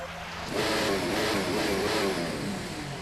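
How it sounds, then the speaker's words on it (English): An F1 car engine in the F1 game on PS4 starts up and settles into a steady, loud mid-pitched roar. "Engine fired."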